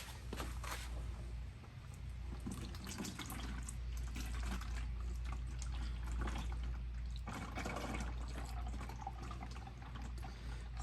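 Transmission fluid drained from a 2005 Hyundai Elantra pours into a measuring container, a steady close-up liquid rush with a low hum beneath, continuing without speech for about ten seconds.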